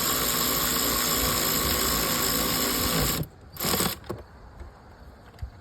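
Ratchet tightening a ground bolt on a Kia Sorento engine, rapid buzzing clicks for about three seconds, then a few scattered clicks and knocks.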